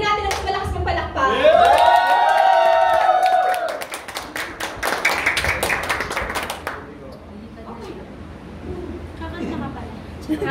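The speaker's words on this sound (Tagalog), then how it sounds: "Bigyan natin ng malakas ng palakpak." Audience clapping at a church gathering to welcome a brother to the front, dense applause with scattered claps under loud singing or speech-like voices and music.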